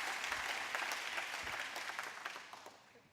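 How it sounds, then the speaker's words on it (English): An audience applauds a pastor at a food bank ribbon cutting ceremony, a continuous patter of many hands clapping, fairly distant and slowly fading away. "Can we get a round of applause for Pastor Martin?"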